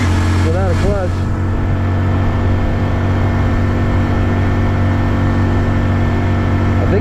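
A 2025 Honda Dax 125 motorcycle being ridden, its engine a steady, loud drone heard up close over wind rumble, with a brief rising rev near the start. No one speaks.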